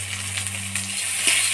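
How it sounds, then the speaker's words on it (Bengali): Soybean chunks frying lightly in a pan with turmeric and salt, a soft continuous sizzle over a low steady hum, with a few faint stirring scrapes. "সয়াবিনটা ধুয়ে নিলাম, এবার হলুদ লবণ দিয়ে হালকা ভাজিয়ে নিব"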